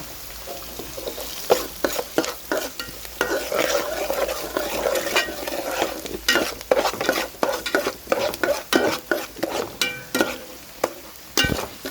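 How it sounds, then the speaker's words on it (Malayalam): Onions sautéing with salt and turmeric in a pan for little millet upma: a steady sizzle under quick, rhythmic scraping and clinking of a spoon stirring against the pan. "ഉള്ളി പെട്ടെന്ന് വഴന്നു വരാൻ വേണ്ടിയാണ് ഉപ്പ് ഇതിൽ ചേർത്ത് കൊടുക്കുന്നത്"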